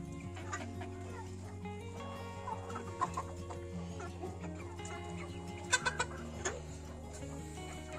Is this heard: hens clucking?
yes